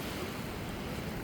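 Sea waves at Mahe beach make a steady, washing roar, a broad continuous rush with wind noise and no distinct breaks.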